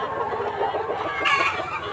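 Layer hens in a partitioned poultry shed, newly into laying, cluck in a dense, continuous chorus close by, with a brighter burst of calls partway through.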